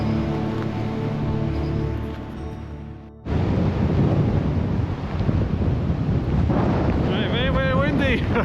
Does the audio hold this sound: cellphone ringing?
no